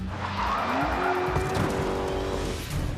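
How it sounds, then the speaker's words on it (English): A car skids through a handbrake turn on a driving test course, its tires squealing in a rising, sustained screech over the engine noise for a few seconds. "They all learn how to do a handbrake turn."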